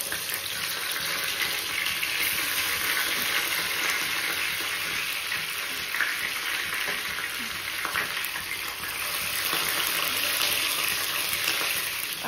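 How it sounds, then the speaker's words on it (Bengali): Stingray fish frying in hot oil in a wok, giving a steady, dense sizzle that holds at an even, fairly loud level throughout with no voices. "এখানে কড়াই বসিয়ে দিয়েছি, ফার্স্টে মাছটাকে ভেজে নেব। তেল গরম হয়ে গেছে"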